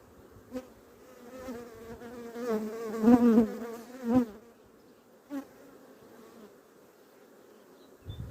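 Honey bees buzzing in an opened beehive during hive merging, a close, wavering buzz that swells and fades in bursts as individual bees pass near, with no talking.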